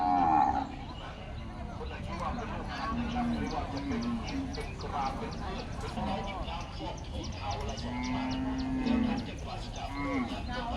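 Cattle at a livestock market moo repeatedly in long, low calls over a busy background of crowd noise and voices, with scattered clattering nearby.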